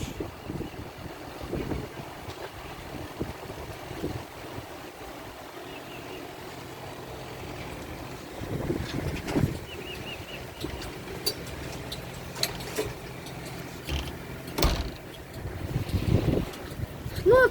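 Steady wind rushing with buffeting gusts against the microphone, rising toward the end, with a faint patter that could be rain underneath.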